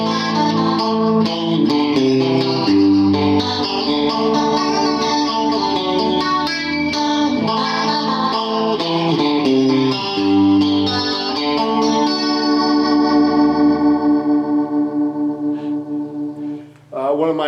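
A guitar played through a Line 6 POD's swirling rotary speaker effect, its chords warbling and pulsing steadily, slowing into a throbbing wobble near the end.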